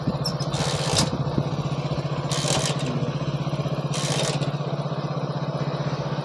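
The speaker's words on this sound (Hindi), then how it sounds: "ऐसे करो स्टार्ट, देखो परफेक्ट स्टार्ट हो रही है" A TVS XL 100 moped engine runs with a steady, fast putter close by, alongside hissing, rushing bursts at intervals.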